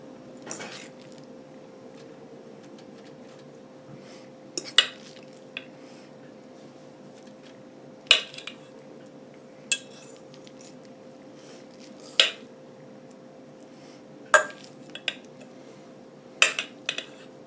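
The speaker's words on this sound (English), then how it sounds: "We're going to put it on the inside of the caps of these mushrooms" A spoon scoops tuna mixture and presses it into mushroom caps, giving soft squishy scrapes punctuated by about eight sharp clicks of metal against a dish every couple of seconds, close and quiet over a faint steady hum.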